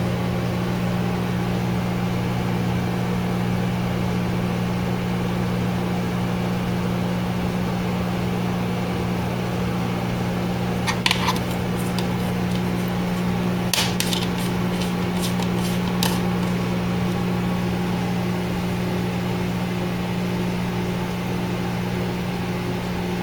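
A 1000-watt microwave oven hums steadily with a Rapid Brands popcorn popper inside, a constant low drone broken by a few brief clustered pops and ticks midway.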